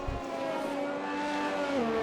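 A Formula 1 car engine in a racing video game at the Belgian round, heard as a sustained, loud, high-pitched whine at steady revs that drops in pitch near the end as the car slows.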